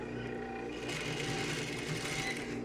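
A sewing machine stitches a fabric strip for an ironing cushion, giving a close, steady mechanical whir with a rapid needle rhythm, alone without talk.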